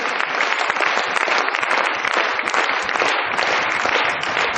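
Audience applause in a hall, loud continuous clapping from a crowd with crisp individual claps standing out, sustained evenly for several seconds without talk.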